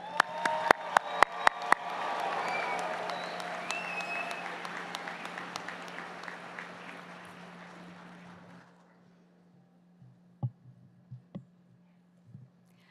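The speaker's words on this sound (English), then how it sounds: "show our biggest appreciation for these graduates with one more huge round of applause" Sustained crowd applause for graduates at a college spring graduation ceremony fills a large hall for about eight seconds, then fades out, leaving a few scattered claps and thumps.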